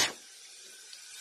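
Tap water running into a sink during washing, a brief splashing burst at the start that settles into a steady faint hiss of flowing water, with no talking.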